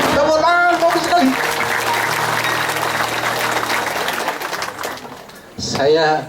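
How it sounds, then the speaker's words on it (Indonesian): Audience clapping in an indoor gathering after a group sing-along, a steady wash of applause that swells and fades, with a voice speaking over it at the start and end. "Tepuk tangan, bagus sekali."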